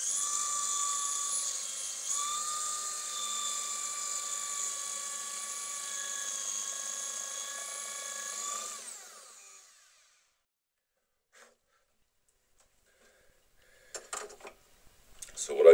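A power drill whines steadily, drilling through teak or beech wood for handmade earrings, close and continuous for about nine seconds before stopping, then near silence with a few faint clicks and handling knocks.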